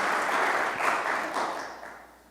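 Applause from the audience at a Revit user group meeting: a dense, steady wash of clapping that holds for a couple of seconds and then slowly fades, heard at a moderate distance with no voices over it.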